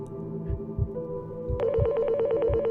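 A black telephone rings with a fast electronic trill that starts partway through, loud and steady over a low rhythmic throbbing pulse.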